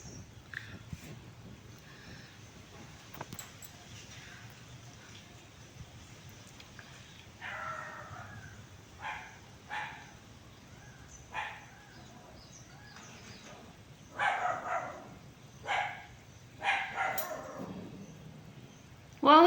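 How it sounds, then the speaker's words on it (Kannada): A dog barks in a string of short, separate bursts that grow louder and more frequent toward the end, over a quiet outdoor background with low hum. "ನಾಯಿ ಬಂದೈತೆ, ಅದಕ್ಕೆ ಫುಲ್ಲು ಗುರ್ರ ಅಂತ ಐತೆ."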